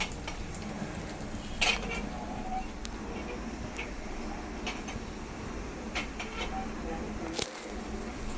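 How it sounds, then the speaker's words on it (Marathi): Cumin, urad dal and chana dal tempering in hot oil in a pan give a steady sizzle and frying hiss throughout. Occasional clinks of a spoon against the pan sound over it, and no one speaks. "अर्धा चमचा चण्याची डाळ आणि याची खमंग फोडणी करून घेऊया"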